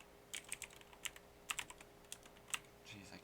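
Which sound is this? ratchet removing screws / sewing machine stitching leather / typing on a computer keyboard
typing on a computer keyboard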